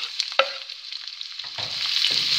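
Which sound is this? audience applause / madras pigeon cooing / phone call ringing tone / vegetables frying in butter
vegetables frying in butter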